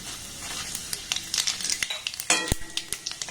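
Bengali five-spice seeds sizzle and crackle in hot oil with bay leaf and chili for a spicy raw-mango pickle, a steady close fry broken by quick pops and a scrape of stirring.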